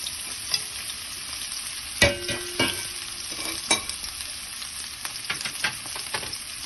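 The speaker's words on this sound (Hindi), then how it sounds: "अब हम तड़का बना रहे हैं। अभी मैंने इसमें थोड़ा सा तेल डाला है।" Oil sizzles softly in a pan while making a tadka for sarson ka saag, with a steady hiss broken by occasional clinks and scrapes of stirring.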